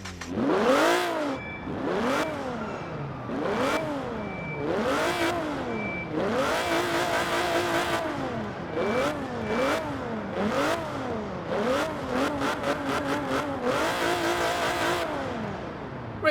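Turbocharged 2.8 litre V6 of a Vauxhall Insignia VXR in Forza Horizon 4 revs repeatedly, rising and falling in sweeping bursts, with a quicker flurry of blips toward the end, loud and close.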